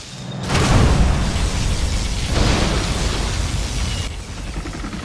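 A USA particle cannon fires in the Command & Conquer Generals strategy game, setting off a loud booming blast followed by a sustained roaring barrage of explosions that cuts off abruptly near the end.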